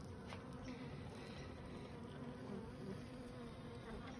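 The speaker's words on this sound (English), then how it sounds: "They filled up pretty much 6 of the 8 frames in this box with bees right now" Honey bees buzz inside a hive box filled with frames, a continuous soft droning hum from many insects, fairly quiet and even, with no voices.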